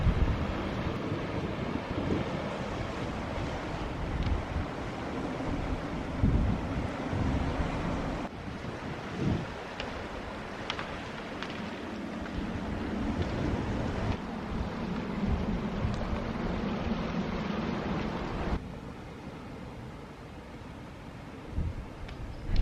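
Soft, continuous wash of water lapping and breaking against rocks at Kynance Cove, Cornwall, with gentle wind in the background and no voices.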